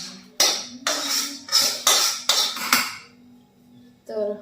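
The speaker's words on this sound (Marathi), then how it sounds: "टमाटर कट करते" A knife chops tomatoes on a cutting board in a home kitchen, six sharp, close knocks in an uneven rhythm, then a brief clink of utensils, with a low hum behind and no talk.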